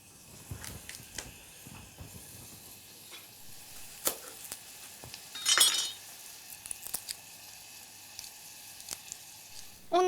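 Onions sizzle and fry steadily in a pan, a continuous close crackle broken by occasional clinks of a utensil against the pan and one louder burst of spitting midway.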